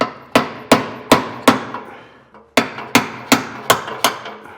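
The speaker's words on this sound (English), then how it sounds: "give that a whack." A hammer drives a spare bolt against a knurled pressed-in bolt on a leaf spring suspension, ringing out about eleven loud metallic strikes in two steady runs, close and alone.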